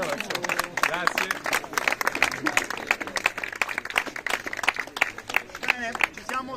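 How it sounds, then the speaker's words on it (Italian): Applause breaks out at an Italian award ceremony, scattered clapping running under a speaker's voice for several seconds. "Applauso."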